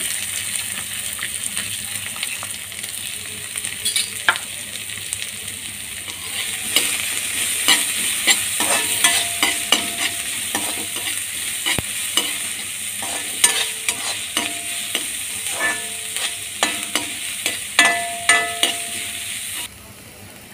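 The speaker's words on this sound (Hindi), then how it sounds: "हमने प्याज को देखिए भून लिया है, ज़्यादा नहीं भूना है, हल्का ही भूना है।" Finely chopped onions frying in a pan, a continuous bright sizzle broken by frequent scraping stir strokes that grow busier toward the end, close and alone with no voices.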